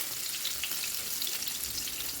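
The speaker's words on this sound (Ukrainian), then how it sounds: "Тепер вертаємо на другу сторону і смажимо з другої сторони." Chicken cutlets sizzle and crackle in a hot pan, a steady bright hiss with small pops throughout.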